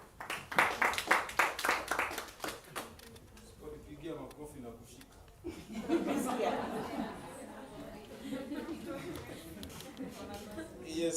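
An audience at a child-protection launch event claps to welcome a speaker, a brisk burst of hand claps up front, then fading into murmuring chatter and voices talking.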